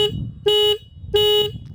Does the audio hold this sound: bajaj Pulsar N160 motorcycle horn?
yes